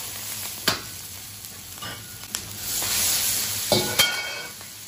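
Minced scallion and ginger stir-fry in oil with dried shrimp, a soft frying hiss swelling midway, punctuated by a few sharp spatula knocks against the wok; no talking.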